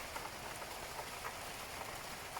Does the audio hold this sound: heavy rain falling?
yes